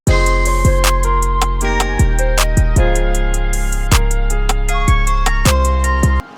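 A steady, punchy hip-hop beat with deep bass drops and crisp hi-hats loops continuously, loud and upfront with no vocals.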